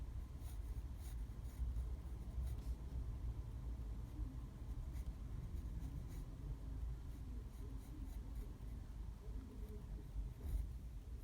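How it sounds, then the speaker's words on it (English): A pencil sketches a figure drawing on paper in soft, continuous close scratching strokes over a low rumbling background, with no talking. "So I'm just drawing the basic shape of his muscle, his arm muscle"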